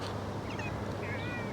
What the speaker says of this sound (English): Some more cats here.